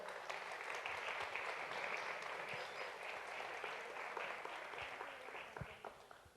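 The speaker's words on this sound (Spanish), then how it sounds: "les pido un fuerte aplauso para recibir a toda la mesa panel" Continuous audience applause welcoming a discussion panel at an accounting and legal seminar, a soft, even wash of many hands clapping that tapers slightly toward the end, with a few sharper claps standing out.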